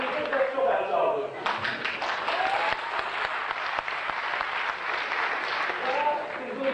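An audience at a FameLab science talk contest applauds in sustained, dense clapping that fills the whole stretch, with a voice faintly under it.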